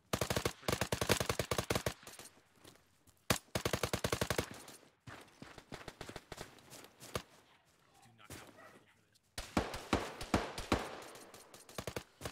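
Gunfire rings out in the military video game Arma 3: loud, close bursts of rapid automatic shots in clusters, separated by quieter stretches, then a heavy final volley.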